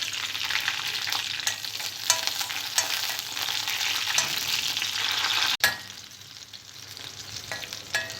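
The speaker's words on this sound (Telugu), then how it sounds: "ఆయిల్ వేడిన తర్వాత పచ్చిమిరపకాయలని ఫ్రై చేసుకోవాలి" Green chillies frying in hot oil in a pan on a stove, a steady crackling sizzle with small pops, briefly cutting out near the end before resuming more quietly.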